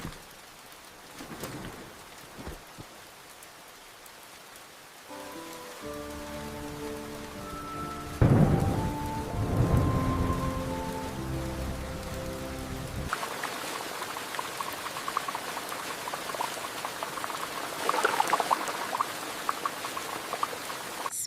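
Monsoon rain falls steadily on Ta Preah village with thunder, a constant hiss of drops and a deep rumble near the middle, while a tonal musical passage plays through part of it.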